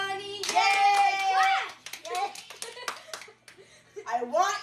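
People clap their hands together in a quick run of sharp claps, while voices chant and talk over them and someone speaks and laughs.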